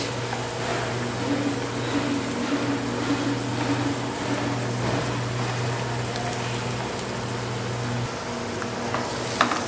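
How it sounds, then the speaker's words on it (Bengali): Vegetables frying in a pan with peri peri sauce, giving a continuous rain-like sizzle with occasional stirring scrapes, a steady low hum beneath it. "এগুলোকে একটু ভেজে নেব হালকা করে, যতক্ষণ না একটু সফট হয়ে আসে। এবার আমি এর মধ্যে দিয়ে দিচ্ছি পেরি পেরি সস"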